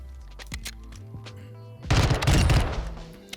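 X13 fully automatic pistol firing in Modern Warfare II, a loud, rapid close-range burst lasting under a second after a few quiet handling clicks.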